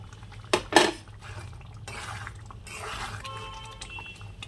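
Paneer pieces go into a pan of simmering restaurant-style gravy, with a couple of sharp utensil clinks near the start followed by soft, wet bubbling and stirring sounds at low level.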